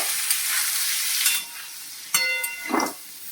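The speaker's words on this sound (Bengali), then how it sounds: "আলুগুলো ভাজা হোক" Steamed potatoes frying in a pan for aloo posto: a hissing sizzle with bursts of stirring and a couple of scraping clatters near the end, moderately loud and close.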